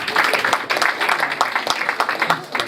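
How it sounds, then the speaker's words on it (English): An audience at a gala night applauds the Executive Governor of Oyo State, a dense, steady patter of many hands under a voice, ending with the crowd still clapping. "Your Excellency, please give him a round of applause."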